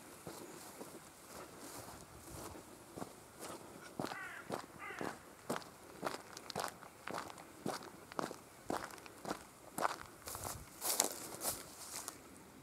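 Footsteps crunching along a path at a fen wetland reserve in Suffolk, a steady, close walking rhythm of many steps over faint wind, with an occasional distant crow caw.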